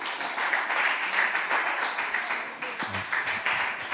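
A church congregation applauding, a steady patter of many hands clapping at moderate volume, with a low voice briefly underneath near the end.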